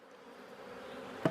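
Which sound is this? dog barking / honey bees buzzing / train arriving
honey bees buzzing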